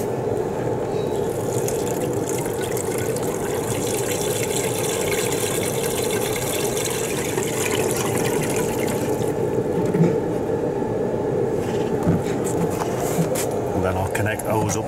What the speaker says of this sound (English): Hose up and fill it up with water.